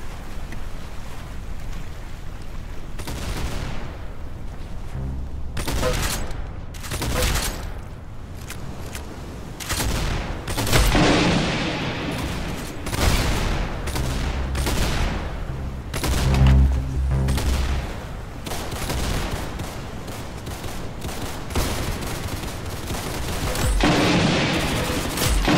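Rapid bursts of gunfire from the Roblox shooter Arsenal come in clustered volleys over about 25 seconds. Between the loud sharp shots sits a steady game background wash, with no talking.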